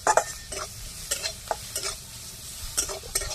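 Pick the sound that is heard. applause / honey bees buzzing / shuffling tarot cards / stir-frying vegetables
stir-frying vegetables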